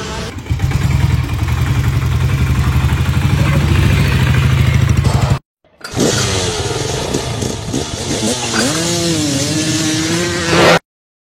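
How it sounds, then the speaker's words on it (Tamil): Old diesel Royal Enfield Bullet motorcycle engine thumping loud and close at a steady idle, cutting out briefly, then starting again and settling back into a rough, clattering idle. "சோ இத வண்டியை ஸ்டார்ட் பண்ணலாம் வாங்க."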